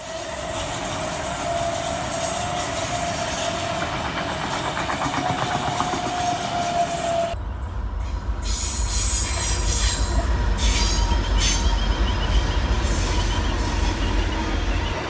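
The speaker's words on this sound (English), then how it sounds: "Now, just with a freight train going by here" A freight train rumbles past close by, wheels squealing and clattering loudly on the rails, the tone shifting as heavier cars roll through.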